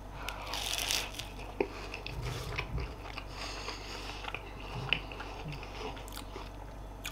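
Someone bites into a veggie quesadilla and chews it close to the mic, with soft crunches and moist mouth sounds, faint and intimate, against a quiet background.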